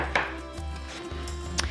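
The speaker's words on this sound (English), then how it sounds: "we just want to cube it in small pieces" Watermelon being cut into small cubes with a knife on a board, a few sharp chops spaced through a short stretch, close and fairly clear with no talk.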